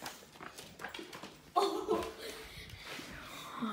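A new pet dog gives a short, high whimpering whine midway, close by, amid shuffling household noise with no clear talk.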